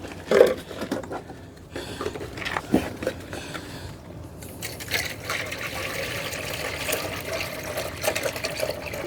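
Water is poured into a pet's water container at a cleaned cage, a steady splashing fill sound running under the scene at moderate level after a few brief knocks.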